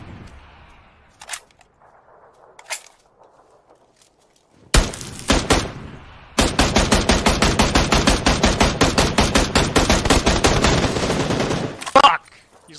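Video game gunfire in a tense online shootout: a few scattered shots, then a loud sustained burst of rapid automatic fire sprayed into a second-floor window, ending abruptly.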